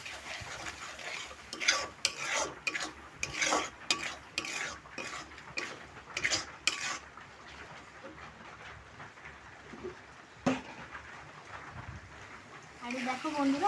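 Masala with chili powder stirred in a pan, a series of scraping, clattering spoon strokes over a low sizzle, busier at first and then thinning out, with a voice talking in the background.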